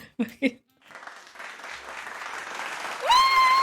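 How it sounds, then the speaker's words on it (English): A crowd bursts into loud, sustained cheering and applause after a couple of brief thumps, swelling steadily with a high whistle near the end. "Edit a cheering sound effect"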